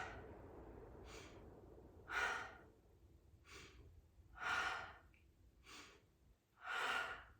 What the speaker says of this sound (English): Inhale quick, long drawn out exhale.